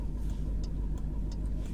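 A Jeep Trackhawk's engine idles in a low, steady rumble heard close by, with a few faint ticks and rustles over the even drone.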